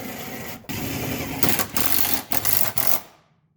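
Pneumatic or power tool running in several bursts while driveshaft hanger bearing bolts are tightened on a Pontiac G8, a steady mechanical whir broken by short pauses, close and fairly loud.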